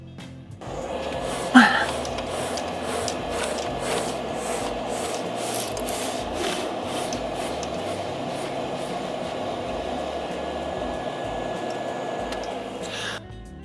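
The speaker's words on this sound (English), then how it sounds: "I'm going to go under this machine, and I'm going to re-roll some of the vinyl that I just rolled out of it" Vinyl is re-rolled beneath a Roland printer, producing a steady mechanical whir and rumble with evenly spaced ticks that carry on for about twelve seconds at moderate, close range.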